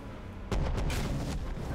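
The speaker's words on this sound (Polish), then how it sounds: "Walimy rakietami dalej." Rocket explosions in the survival game Rust: a sudden heavy blast followed by a rumbling, crackling burst of several quick booms that tail off, loud and close, with no talking.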